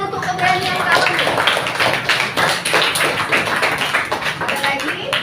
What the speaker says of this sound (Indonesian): kasih tepuk tangan untuk keberanian kamu